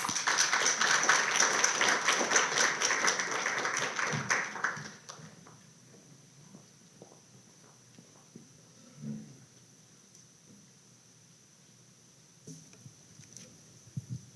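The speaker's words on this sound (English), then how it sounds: "Please give them a really big round of applause." An audience at the Norton museum applauds two speakers after a curator conversation; dense clapping holds for about four seconds, then fades out, leaving scattered claps and faint room noise.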